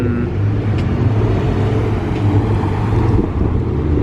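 A Chevrolet Corvette C5 rolls out of a car culture car show, its engine a loud, deep, steady rumble held throughout at close range, with no voices over it.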